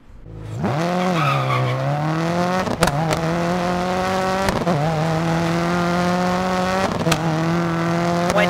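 Rally car in the DiRT 4 driving game holding a steady high engine drone while driving through water, with a few brief splash bursts breaking in at intervals, loud and continuous with no speech.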